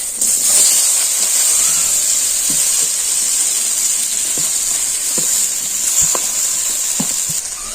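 Sago fries in a kadai with a loud, steady sizzling hiss close up. A few light scrapes and taps from stirring sound under it.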